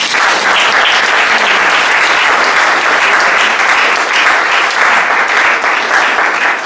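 A church congregation at a Pentecost service bursts into loud, sustained applause, a dense, even wash of clapping from many hands that lasts throughout.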